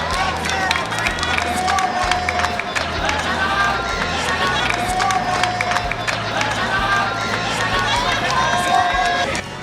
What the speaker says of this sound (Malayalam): സമീപത്തു നിന്നും ഒരു വലിയ കയ്യടിയുടെ ശബ്ദം ഉയർന്നു കേട്ടു